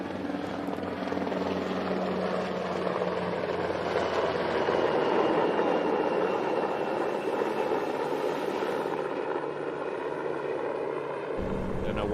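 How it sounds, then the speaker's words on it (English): An Army helicopter flies over an outdoor tournament, its rotor and engine producing a strong, continuous roar that swells and then cuts off abruptly near the end, with faint voices underneath. "it sounds like an Army helicopter performing a strafing run here on this tournament."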